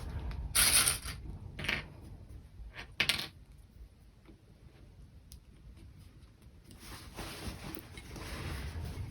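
Metal sewing clips snap onto fabric seams of a drawstring bag in a few sharp, bright clicks, close up and alone, with quiet handling noise between them.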